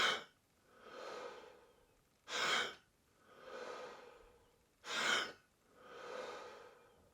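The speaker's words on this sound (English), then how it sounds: "It is essentially hyperventilating, but you're doing about, I do 40 breaths like this." Wim Hof style breathing through the mouth, close and alone: three sharp, forceful inhales, each followed by a longer, softer exhale, in a steady, deep rhythm.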